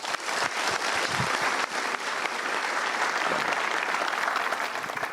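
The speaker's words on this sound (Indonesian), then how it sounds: "Good, kita berikan tepuk tangan dulu." An audience at a motivational seminar breaks into sustained applause, a thick, even roar of many hands clapping close by for several seconds.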